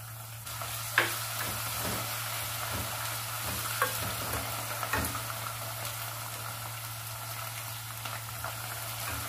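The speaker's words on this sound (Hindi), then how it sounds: "लहसुन अदरक को 2 मिनट के लिए भूनेंगे।" Garlic-ginger paste frying with golden brown onions in a pan for a dhaba-style chicken shorba, a steady close sizzle with occasional stirring scrapes and clinks, no talking.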